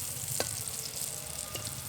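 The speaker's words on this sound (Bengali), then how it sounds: "ধোকাগুলোর একটা দিক খুব ভালোভাবে ভাজা হয়ে এসেছে, এবার উল্টে দিয়ে অন্য দিকগুলো ভেজে নেব" Banana blossom cakes (mochar dhoka) frying in a hot pan give a steady, soft sizzle with a couple of faint taps, no voices.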